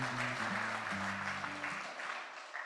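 An audience at an investment forum applauds a singer, steady broadband clapping under a sustained sung or hummed tone that fades toward the end.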